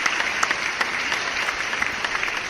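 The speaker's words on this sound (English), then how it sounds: "Give you an applause." Steady, continuous applause for a live Q&A, dense overlapping claps at an even level with a few sharper hits, no voices over it.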